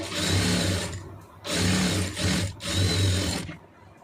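Sewing machine running a stitch line along a joined armhole seam, three sustained whirring bursts with short pauses between, close and loud with no talk.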